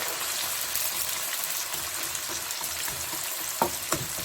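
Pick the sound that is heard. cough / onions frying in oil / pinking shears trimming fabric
onions frying in oil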